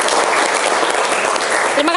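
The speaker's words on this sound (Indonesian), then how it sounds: "Tepuk tangan" Students in a classroom guidance session clap together in a loud, dense burst of applause that holds steady, with a few voices mixed in near the end.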